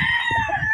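A Dink pair sweater gamefowl broodcock rooster crows once, close and loud, its drawn-out call holding steady over a short stretch with no voices.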